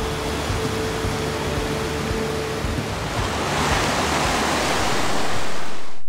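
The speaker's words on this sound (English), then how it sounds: "the volume of the river increased and the rapids intensified" River rapids roaring through a Himalayan gorge in Zanskar, a dense steady rush of whitewater that swells louder toward the end, with a faint tonal hum early on.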